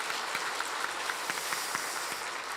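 A church congregation at a Sunday service claps in a steady, dense patter of applause, moderately loud and continuous, with no talking over it.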